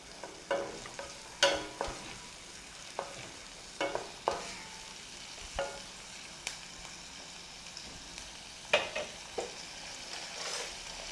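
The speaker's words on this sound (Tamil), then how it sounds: "இது நம்ம கட் பண்ணி வச்சுருக்கக்கூடிய வெங்காயத்தை அதில் போடலாம் அதில் போட்டு நல்லா ஃப்ரை பண்ணுங்கள்" Chopped onions frying in melted butter in a pan for pepper butter chicken, a steady soft sizzle broken by repeated scraping stirs at an uneven rhythm, close and fairly quiet with no talking.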